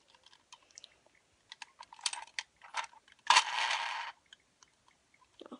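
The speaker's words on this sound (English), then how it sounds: "And then you spin it, and then you get a little gumball." A gumball slot machine is operated in a string of small, close plastic and metal clicks and rattles, followed by one louder whirring rattle lasting under a second, then a few faint clicks, with no voices.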